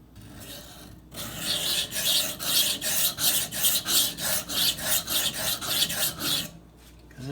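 A Cold Steel Recon 1 knife blade rasps across a sharpening stone in a steady run of close, even strokes, each gritty scrape rising and falling in a regular rhythm, with no talking.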